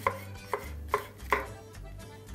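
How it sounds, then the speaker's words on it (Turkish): Peppers being diced with a knife on a board, four distinct sharp chops at a steady, unhurried pace, close and clear with a low background hum and no talking. "Şimdi biberlerimi doğramak işleme devam ediyorum."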